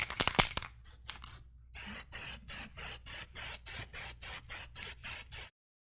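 Gold Plasti Dip metalizer going on as a second coat, a few quick bursts of aerosol spray followed by a steady series of about a dozen close, loud hissing sprays in an even rhythm, ending abruptly.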